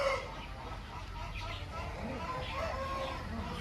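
A rooster of a peacock-type fowl breed, about 14 months old, crows and clucks faintly in the background, with people talking nearby.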